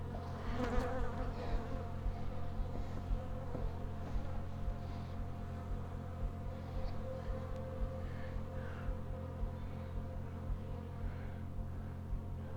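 Honey bees from an opened hive during an inspection and colony split hum in a dense, steady drone that fills the whole stretch at close range, with no talking over it.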